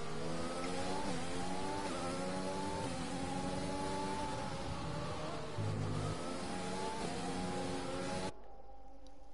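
Race cars in a Bahrain round of a sim-racing league accelerate hard, their engines climbing in pitch through repeated upshifts. The sound is loud and sustained, with overlapping engine notes, then drops away suddenly near the end.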